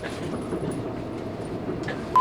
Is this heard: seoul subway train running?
yes